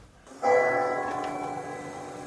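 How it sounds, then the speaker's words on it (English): A single church bell strikes and rings out with a sustained, slowly fading metallic tone, alone and moderately distant. "With the church bell"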